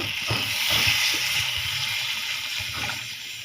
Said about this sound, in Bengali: এই পানি দিয়ে দিব